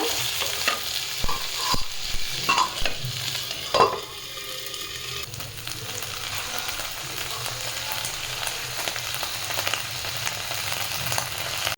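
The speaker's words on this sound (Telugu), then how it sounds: "పచ్చిమిర్చి టమాటా ఇవి కూడా వేసి ఫ్రై చేసి తర్వాత మట్టికాయ ముక్కలు చేసినాం కదా అవి కూడా వేసి అన్నీ ఫ్రై చేసుకోవాలి" Green chilies, tomato and mattikaya pieces fry in a pan, a continuous moderate sizzle with a few stirring scrapes and clinks early on.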